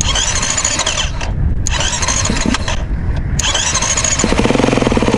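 Motocross motorcycle engine being started, loud and close, sputtering and cranking before catching into a rapid, steady idle toward the end.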